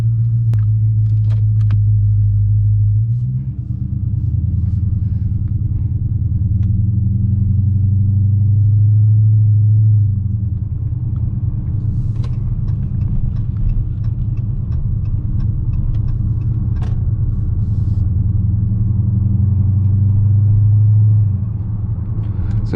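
From inside a Dodge Scat Pack on a street drive, a deep, loud engine rumble holds steady, shifting in tone early on and again near the end, with faint tire and road noise and no talk.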